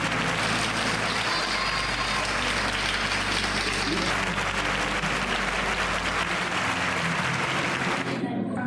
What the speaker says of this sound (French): je vous demande d'applaudir très fort Nicole Bandales